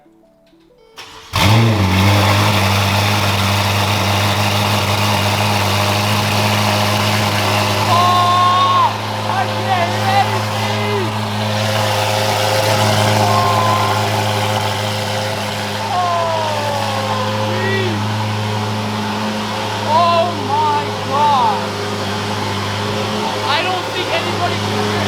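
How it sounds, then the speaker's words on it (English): Ferrari F8 fitted with a full Boden exhaust bursts into life with a loud sharp start, then settles into a deep, steady idle with occasional slight revs, very close, while people chatter and shout over it. "they have an F8 that they're about to start up, and this is going to be fun and very, very loud"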